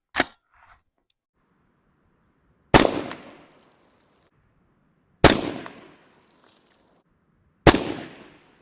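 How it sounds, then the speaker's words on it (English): Three sharp, loud shots from an AR rifle at a 25-yard range, spaced a few seconds apart and each ringing off into a short decaying echo. A fainter click comes just before them. "I'm shooting the bottom row of dots, second from the right, 3 rounds."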